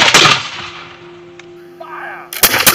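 Musket volley fired by period reenactors at a farm encampment: a loud, sharp blast opens and decays into a faint hum, then a second heavy volley cracks near the end.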